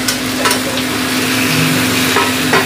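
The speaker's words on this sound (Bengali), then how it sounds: "এবার এই কচুগুলো আর আলুটা পুরোটা দিয়ে দেবো।" Chunks of taro and potato go into a hot pan of lightly fried chopped ginger and sizzle steadily, with a constant close crackling hiss and faint stirring scrapes throughout.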